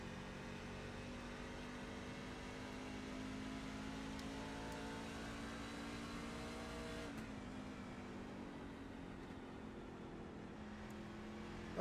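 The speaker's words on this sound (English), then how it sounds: "Let's listen in to see if he's shifting his truck." Onboard engine drone from a racing truck in an off-road Rebels Truck Series desert race, holding a steady loud hum with no gear shifts and only a slight pitch dip near the end.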